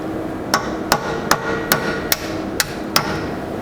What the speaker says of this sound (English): so I think that's ready to punch through now